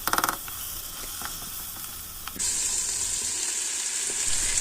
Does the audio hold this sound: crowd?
no